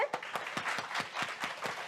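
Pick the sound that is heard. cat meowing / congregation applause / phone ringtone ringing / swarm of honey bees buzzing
congregation applause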